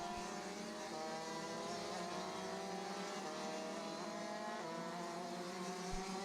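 Rotax DD2 racing karts sweep through the first corner of a racetrack during a 2013 Rotax Max Challenge Pan American final, their engines a loud, continuous, layered buzz that rises and falls as several karts pass together.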